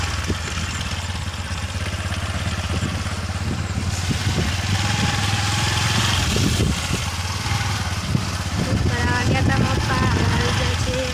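A motorcycle engine idles and runs with riders seated, a steady low rumble and rattle under wind and road noise, with people talking over it.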